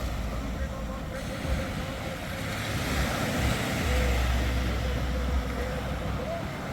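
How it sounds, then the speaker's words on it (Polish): Motorboat speeding across the sea on a beach holiday in Turkey, with a steady rush of waves, spray and wind buffeting the microphone throughout, and faint voices underneath. "No jeszcze się przy okazji przepłyną łódką."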